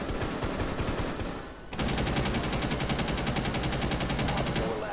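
Rapid automatic gunfire in a Rainbow Six Siege match, a brief lull giving way to a dense, sustained burst of close, loud shots with even rhythm.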